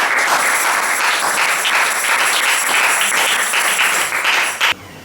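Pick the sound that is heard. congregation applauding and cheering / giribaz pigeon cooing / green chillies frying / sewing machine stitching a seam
congregation applauding and cheering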